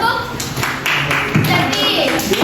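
A classroom of students claps briefly during a practice teaching lesson, with dense, close, loud hand claps and children's voices mixed in.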